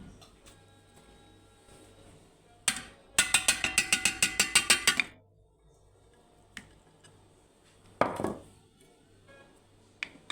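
Meat being minced for rice kofta in a grinder, a rapid loud burst of rattling mechanical clicks lasting a couple of seconds, followed by scattered knocks and a short whirring surge amid a quiet kitchen.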